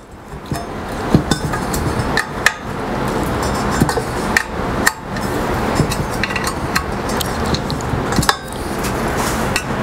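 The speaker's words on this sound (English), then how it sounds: "So I'm just gonna give it a good smack like that." A DTG printer base frame under assembly is smacked and knocked, giving repeated sharp metallic bangs and clinks at irregular intervals over steady background noise, close and fairly loud.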